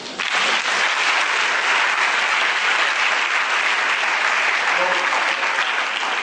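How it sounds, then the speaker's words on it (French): A church congregation applauds to acclaim the Lord in a loud, dense burst of clapping that holds steady throughout. "On acclame le Seigneur."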